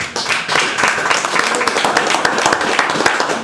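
Church congregation applauding together during a sermon, a dense, steady wash of many hands clapping at close range, with talk mixed in.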